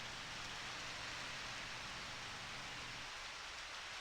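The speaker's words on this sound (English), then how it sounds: "Just the giant raindrops are coming down" Steady rainfall hisses without a break in the Harvest Moon: Back to Nature farming video game, a dense, even wash of falling rain with no voices over it.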